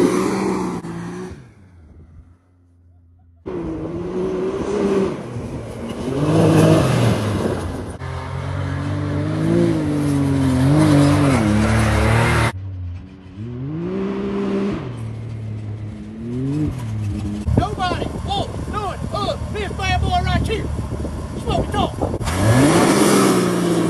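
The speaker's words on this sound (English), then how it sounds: "This is a Can-Am Maverick X3 Turbo RR." A Can-Am Maverick X3 Turbo RR side-by-side engine repeatedly revving and accelerating, loud and close, rising and falling in bursts with a brief lull near the start and a rougher mechanical clatter later.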